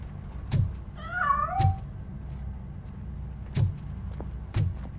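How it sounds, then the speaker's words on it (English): A cat meows in a wavering, drawn-out call inside a building in the game Robocop Rogue City, heard once, close and clear, amid several sharp knocks and thuds over a low hum. "That cat must be hiding inside."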